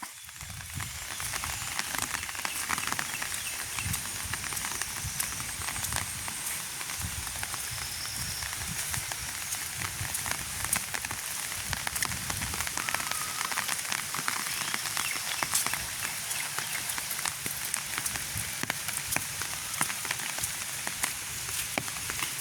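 Constant rainfall in a village hisses and patters throughout, an even wash of drops at a moderate level.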